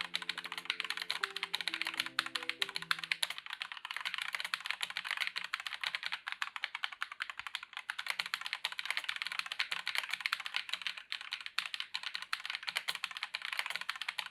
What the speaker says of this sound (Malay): Sekarang saya nak buat typing test menggunakan mechanical keyboard ni.